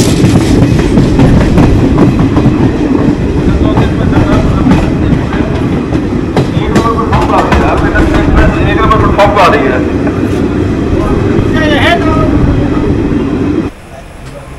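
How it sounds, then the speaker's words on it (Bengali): An Intercity Express train at platform 1 of Nimtita railway station, rumbling loudly and steadily close by with rhythmic wheel clatter and a few faint voices, until the noise drops off abruptly near the end. "নিমতিতা রেলওয়ে স্টেশনের 1 নম্বর প্ল্যাটফর্মে সম্ভবত আজকে আমাদের 1365 ইন্টারসিটি এক্সপ্রেস দেবে"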